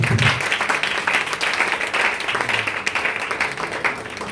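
A church congregation applauds and cheers in a sustained, dense wash of clapping during an evangelical sermon, steady and loud throughout with no talk above it.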